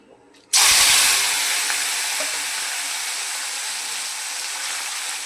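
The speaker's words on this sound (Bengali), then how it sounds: "এই মোরলা মাছগুলো এবার আমি হালকা করে একটু ভেজে নেব।" Mourala fish drop into hot oil with a sudden hiss that settles into a steady, bright sizzle as they fry lightly, close by and with no talking.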